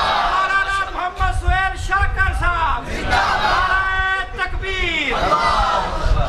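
A large crowd at a live religious speech chants the Allahu Akbar slogan in loud, repeated unison shouts that rise and fall in waves, with many voices overlapping.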